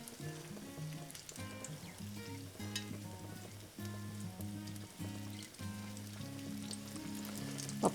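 A fritter fries in hot oil and is shaken with tongs, giving a constant soft sizzle with music playing in the background.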